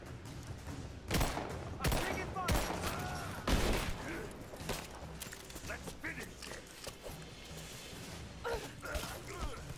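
Gunfire during a firefight in the video game Rise of the Tomb Raider: repeated loud, close shots and rattling bursts ring out over steady background noise, with voices speaking intermittently under the shooting.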